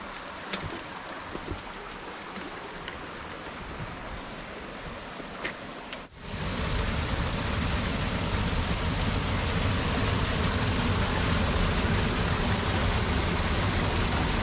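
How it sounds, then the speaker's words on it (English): Creek water rushing in the Temagami backcountry of Canada, a broad steady roar that starts softer with small splashes, then swells suddenly into a loud continuous wash. "Beautiful creek here."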